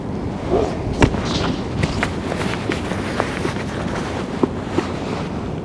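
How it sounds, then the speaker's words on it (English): Strong wind buffets the microphone beside the River Trent on a winter day, a steady broadband roar with occasional sharper gusts and knocks throughout, with no speech. "If you're in the wind, it's virtually unfishable today."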